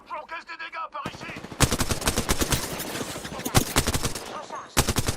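Rapid automatic gunfire from the battle-royale shooter Apex Legends, loud dense bursts with sharp impact cracks after a short quieter stretch, with a brief pause before firing resumes near the end.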